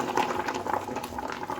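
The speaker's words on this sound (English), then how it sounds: "I just wanted to show you really quick how it is melting down." Soap being rebatched, melting and bubbling in a pot on low heat, gives a soft, continuous gurgle of small bubbles popping up close by.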